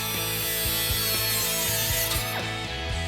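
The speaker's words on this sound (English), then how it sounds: "Using a cutoff wheel, slowly cut along the marked line" An abrasive cutoff wheel grinds through the metal brake light bracket of a Jeep Wrangler, giving a loud, steady, close whine that shifts slightly in pitch as the cut progresses, with no talking.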